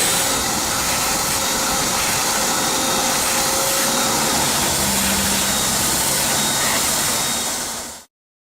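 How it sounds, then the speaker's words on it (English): A vacuum cleaner runs close by, sucking up sanding dust from repaired concrete steps. Its steady whining motor drone holds without a break before abruptly shutting off at the end. "we swept it and vacuumed it to get all the dust off"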